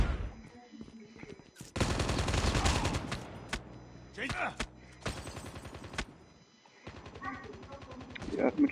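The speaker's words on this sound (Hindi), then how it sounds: "अगलों की सेंट्री गन आ गई" Enemy sentry gun in Call of Duty Mobile firing in rapid automatic bursts, loud and close, in several separate stretches broken by brief pauses and other gunshots.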